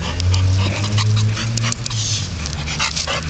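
A Boxer dog whimpers and pants nonstop at close range, with high whines over steady breathing and a low hum underneath.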